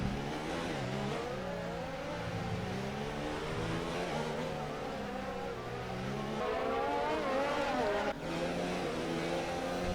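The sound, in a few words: Formula 1 race car engine in tunnel, F1 2020 video game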